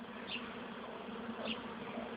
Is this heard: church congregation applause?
no